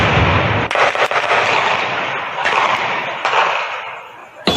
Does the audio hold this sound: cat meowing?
no